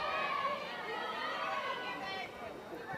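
Oklahoma State softball players chant and cheer in the dugout, a crowd of voices at mid distance that holds steady and then tapers off near the end.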